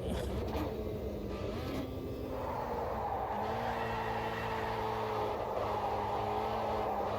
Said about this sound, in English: there's quite a lot of wheel spin